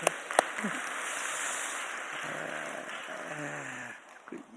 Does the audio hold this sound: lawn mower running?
no